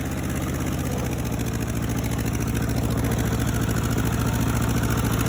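A Ford 8N tractor engine runs hard in second gear during a burnout, a loud continuous low throbbing drone with steady pulsing firing, close and unbroken for the whole stretch.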